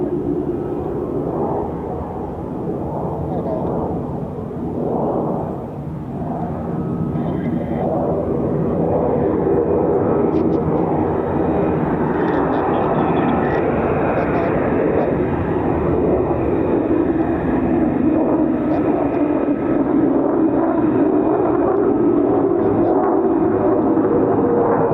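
An F-35B stealth fighter jet descending in a vertical landing at an RAF air base, producing a loud, sustained roar that swells and holds steady for the whole stretch with no talk over it.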